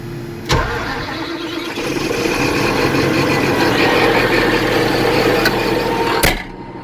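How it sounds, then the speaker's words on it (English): A heavy diesel engine cranks with a sharp click, catches, and settles into a loud, steady rumbling idle, then cuts off abruptly near the end. "Starts like a dream, this machine, every time."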